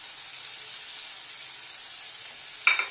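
Onions fry in oil with a soft, even sizzling hiss that runs throughout, then a sharp metallic clink of a utensil breaks in near the end.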